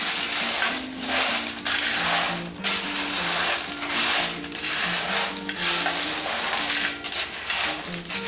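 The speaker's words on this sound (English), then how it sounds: "I'm just going to take a nice big spatula, and we're just going to give everything a nice toss, make sure everything is evenly coated" A big spatula tosses homemade Chex Mix to coat it, bringing repeated crunchy, rattling scrapes and crackles in rhythmic strokes over background music.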